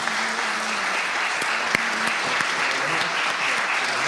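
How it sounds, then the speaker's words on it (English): Rally audience gives panelists a round of applause at a community event, sustained crowd clapping with a few sharper claps standing out near the front. "I want to give our panelists a round of applause."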